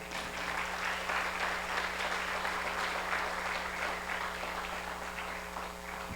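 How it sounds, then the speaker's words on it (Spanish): A church congregation applauds during a sermon, steady dense clapping held for about six seconds at a moderate, somewhat distant level over a low background hum. "Un aplauso al Señor"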